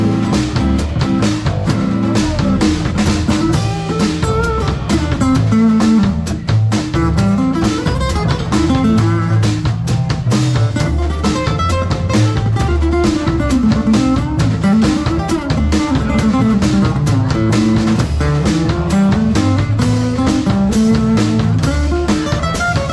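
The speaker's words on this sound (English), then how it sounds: "I'm playing my acoustic guitar through my Quad Cortex with my kind of acoustic setup" An acoustic guitar runs through a Quad Cortex into a Mackie full-range monitor, playing continuous, full, bright strummed and picked chords loudly for the whole stretch, with no talking.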